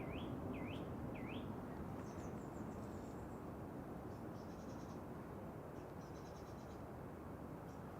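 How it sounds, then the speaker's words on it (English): Birds chirping and singing outdoors beside Manchester Airport, short high calls and trills heard faintly over a constant broad rumble of wind and distant background noise. "Cracking bird noises behind us."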